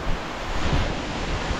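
Waterfall water crashing onto rocks partway down a high fall near Hemkund Sahib, a loud, dense, continuous roar of broadband rushing noise close to the microphone.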